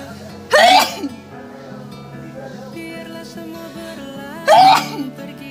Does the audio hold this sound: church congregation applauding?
no